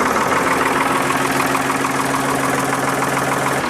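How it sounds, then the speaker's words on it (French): A backhoe loader's engine idles with an oil-system flush added, a loud, steady, even rumble with a constant hum and no pauses. "maintenant on va démarrer et on va laisser tourner 10 minutes"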